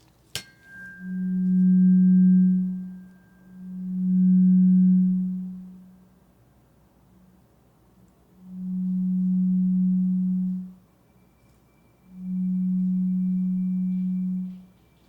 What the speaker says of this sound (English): Let me know when you cannot hear this tune hum anymore, okay?